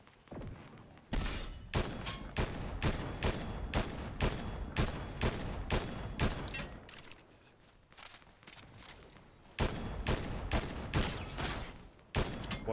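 Rapid gunfire in Fortnite cracks out in a fast, regular string of sharp shots, pauses briefly, then resumes in another quick volley, close and punchy.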